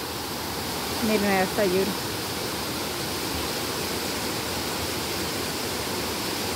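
A river waterfall roars as a steady, loud broadband wash of falling water, constant throughout, with a short spoken remark near the start over the torrent.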